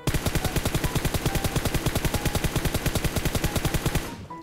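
In PUBG Mobile, an automatic rifle sprays one long, rapid burst of evenly spaced, loud, close shots for about four seconds, then cuts off abruptly, with no talk over it.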